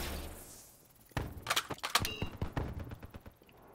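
Shotgun blasts and impacts in the video game Call of Duty Black Ops 3, a loud burst of sharp, close reports and thuds following a quiet lead-in.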